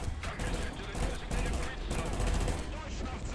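Short machine-gun bursts from a T-60 light tank in the War Thunder video game, dense rapid fire packed across the whole clip with no pauses, loud and close.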